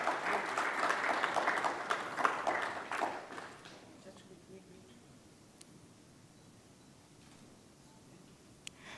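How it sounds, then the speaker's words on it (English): An audience at a business conference applauds the moderator, Alok Gupta, with brisk clapping for about four seconds before it dies away into quiet room noise and scattered faint sounds. "A huge round of applause for wonderfully moderating the discussion."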